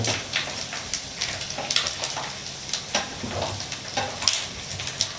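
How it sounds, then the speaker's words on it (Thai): Pork crackling pieces frying in clear oil while being stirred, giving a steady crackling sizzle with frequent sharp pops and bubbling spatters throughout, close and fairly loud with no talk. "ทอดแคบหมู หมูกรอบหรือว่ากากหมูอะไรเงี้ยเนาะ น้ำมันจะค่อนข้างใสนะครับ"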